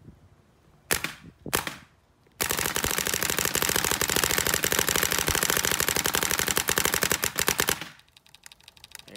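A Bob Long Empire Intimidator paintball marker fires two quick single shots, then a rapid, loud, unbroken stream of shots lasting over five seconds before stopping, close to the microphone.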